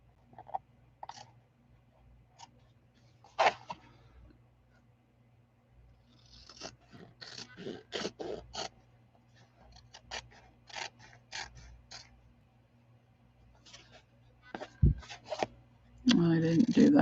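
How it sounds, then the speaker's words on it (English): Tim Holtz craft scissors snip paper for a handmade journal with a stitched binding, giving scattered close, crisp cutting clicks and rustles in irregular bursts over a quiet room. "So I'm just going to take my Tim Holtz scissors."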